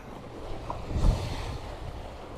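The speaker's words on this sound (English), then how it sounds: "the water's kind of rushing around it" Sea water rushing around rocks along a coast, a steady broadband wash with wind buffeting the microphone and a brief louder surge midway.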